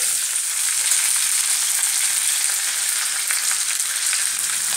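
Capsicum and onion fry together in a pan over a low flame for chilli chicken, a steady, dense sizzling hiss that holds without a break and with no voices.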